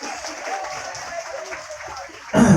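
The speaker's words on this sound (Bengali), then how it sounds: "একটু জোরে হাততালি হবে।" An audience breaks into loud applause at a local singing event. The clapping begins abruptly near the end, after a stretch of someone talking.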